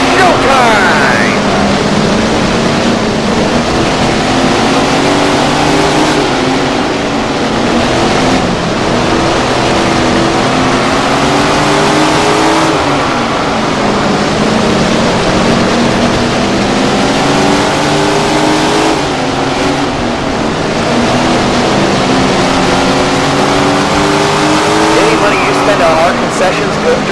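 Sprint car engines droning and revving as the main event begins in Tony Stewart Sprint Car Racing, a loud continuous roar with rising and falling pitch sweeps throughout, under an announcer's voice.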